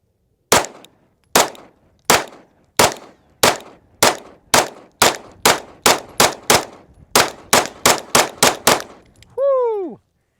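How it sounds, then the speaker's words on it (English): A ported Staccato HD pistol with a Holosun 507 comp sight fires SuperVel 115 ammunition at a range, about eighteen loud, sharp shots in a steady rapid string, then a ringing, clanging tone at the end. "So shooting some SuperVel 115"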